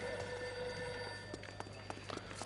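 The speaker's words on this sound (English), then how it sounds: "Where's the phone? I can hear it." An old-style telephone bell rings steadily in the L.A. Noire video game, a faint continuous trill under light footsteps and game ambience.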